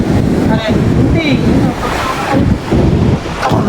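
Floodwater rushes and churns around a hut during a flood, loud and continuous with heavy wind buffeting the microphone, while a person talks over it.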